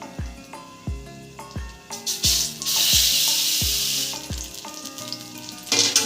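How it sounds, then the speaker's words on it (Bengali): A filling of ground jackfruit seed paste for stuffed pointed gourd fries in a pan, its hissing sizzle swelling midway beneath steady background music with plucked, decaying notes. "এই দেখ পুরটা ভাজা হয়ে গেছে"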